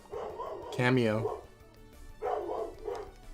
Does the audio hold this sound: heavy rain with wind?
no